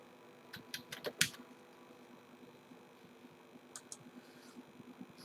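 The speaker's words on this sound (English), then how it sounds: "If I want to call to some other person also, so I can type other name also, like Radhika." Several quick key clicks on a computer keyboard, typed while entering a contact name into a Microsoft Teams call search, come in a short burst near the start then a few faint taps over a low fan hum.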